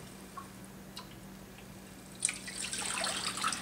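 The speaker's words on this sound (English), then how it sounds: "continue to rinse and drain the holes out" Water splashes and trickles as alfalfa sprouts are rinsed and drained, starting with a few faint drips and then rising into a steady close running and splashing over the last second and a half, with no talk.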